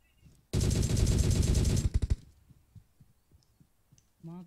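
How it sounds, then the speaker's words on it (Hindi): Rapid automatic gunfire in the mobile battle royale game PUBG Mobile, a dense loud burst lasting over a second and ending in a few separate shots, followed by faint scattered clicks and footsteps. "मैं कवर फायर दे रहा, ठीक है?"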